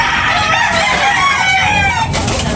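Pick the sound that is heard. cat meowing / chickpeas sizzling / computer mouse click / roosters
roosters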